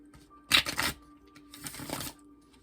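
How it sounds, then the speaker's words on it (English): Oracle cards being shuffled by hand in two short bursts of dry, rapid riffling, close and fairly quiet, with a faint steady hum underneath. "I am shuffling."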